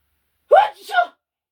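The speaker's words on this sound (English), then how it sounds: "I have to sneeze." A single close sneeze, a sharp intake followed by a quick burst, in otherwise silent surroundings.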